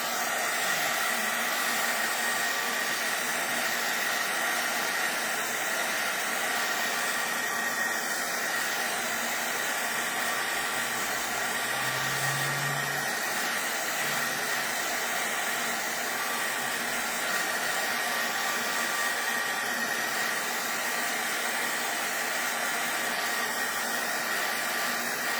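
Hot air from a hair dryer blows over alcohol inks on a homemade substrate, a constant loud, close whooshing hiss with a steady motor hum that runs unbroken from start to finish.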